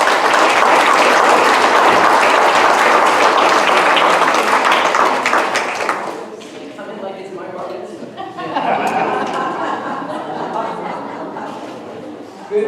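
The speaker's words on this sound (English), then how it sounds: "Please give him a round of applause." A crowd at a condo board certification course applauds a speaker, loud and sustained for several seconds, then thins into scattered clapping mixed with chatter and a few voices talking.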